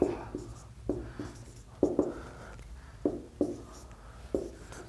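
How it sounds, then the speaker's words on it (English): A maths solution for a pair of linear equations is written out by hand as a steady series of close, distinct scratchy strokes with short pauses between them, and no one speaks. "Now I'll write down it here"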